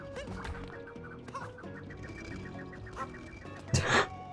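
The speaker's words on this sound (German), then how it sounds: "Hier ist ein Vogel da drin." A chicken in the video game Super Mario Odyssey clucks in short repeated bursts among game music and effects, ending in a louder squawking flurry.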